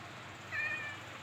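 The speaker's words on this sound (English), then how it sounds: "I heard the kitty." A single short meow from a cat in Minecraft Pocket Edition rises faintly over a steady low game background hum, lasting under half a second.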